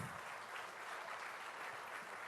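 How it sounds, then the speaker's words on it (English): Faint, steady applause from an audience at an event honoring a sculptor, a brief, even wash of clapping with no pauses. "warm applause"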